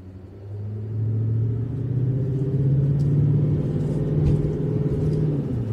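A 2020 GMC Sierra HD pickup in tow haul mode accelerates while towing a gooseneck trailer, its engine a deep, steady rumbling drone that rises in pitch and holds, heard from inside the cab with no talking.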